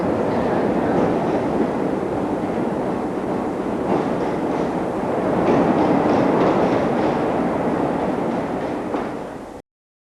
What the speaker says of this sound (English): Leaving Victoria Station for the last time, one of the most famous trains in the world